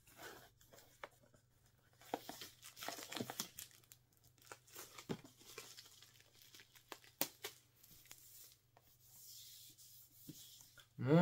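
Plastic shrink wrap being torn and peeled off a heavy Prince Diamonds & Pearls super deluxe 12 LP vinyl box set, with intermittent crinkling, rips and rustles close by, no talking.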